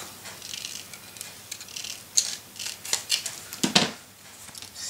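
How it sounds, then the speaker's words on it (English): Scissors trim a small slice of paper for a handmade mini album, giving several quiet, crisp snips spaced out over a few seconds in a calm room. "So I just cut a very little slice off."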